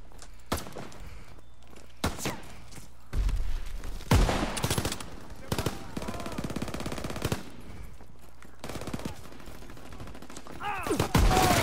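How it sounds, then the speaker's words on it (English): Call of Duty WW2 online match with bursts of rifle and automatic gunfire, sharp close shots interspersed with quieter gaps, thuds and movement, no speech. "I just point blank shot him and I didn't kill him somehow"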